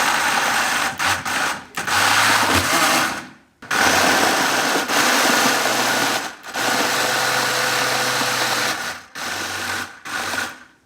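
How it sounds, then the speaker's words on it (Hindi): Electric grinder whirring loudly in bursts while grinding haleem ingredients, several long runs broken by short pauses, close and harsh. "मैं ये ग्राइंड करके आपसे मिलती हूँ"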